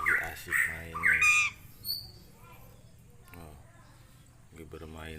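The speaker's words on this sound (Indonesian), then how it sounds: "ditemani burung jalak suren" An Asian pied starling (jalak suren) gives several loud, harsh squawking calls in quick succession near the start, then one shorter call, followed by quieter background noise with faint talk.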